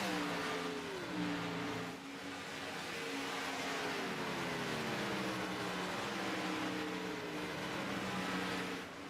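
Race cars in an Xfinity Series racing video game lap the Brickyard, engines droning and sweeping in pitch as cars pass, with a steady dense roar lasting throughout.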